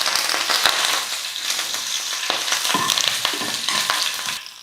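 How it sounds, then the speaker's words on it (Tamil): Curry leaves crackle and sizzle in hot oil with mustard and cumin seeds during tempering, a dense, bright spitting hiss with frequent sharp pops, close and steady throughout. "கருவேப்பிலை கொஞ்சம் சேர்த்துக்கிறேன்."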